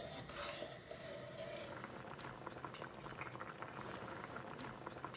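Water with oil and salt bubbles at a steady rolling boil in a rice pot, a dense continuous simmering hiss with small pops and crackles, close and moderately loud, with no talking.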